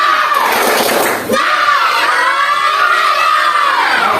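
A group of people clap and cheer together on a counted cue, a loud dense burst of crowd noise that surges, dips briefly, then continues as sustained shouting and clapping.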